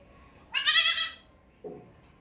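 A goat bleats once, loud and close, in a drawn-out nasal cry, followed a moment later by a second, shorter and lower call.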